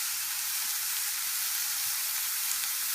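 Shiitake mushrooms sautéing in a pan, a soft, even hissing sizzle heard alone, quiet and continuous without breaks.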